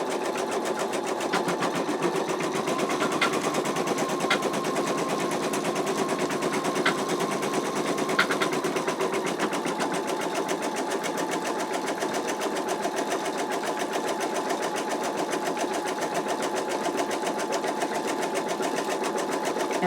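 An embroidery machine stitches out an in-the-hoop wallet, a steady, continuous mechanical whir with fast needle chatter running close and loud throughout, a few faint clicks along the way.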